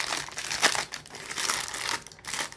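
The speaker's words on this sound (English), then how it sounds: "Wrapped in this tissue paper." Tissue paper wrapped around a cigar shipment crinkles and rustles in close, uneven bursts as it is unfolded during unboxing, with no talk.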